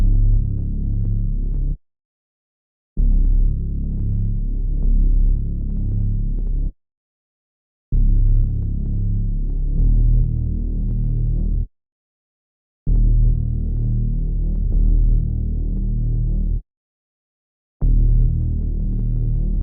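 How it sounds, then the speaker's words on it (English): Deep, throbbing carbon bass synth sample from a multi-kit plays in long sustained phrases, cutting out into brief silences four times between sections, loud and heavy with no voices. "It's the carbon bass, and it sounds like this."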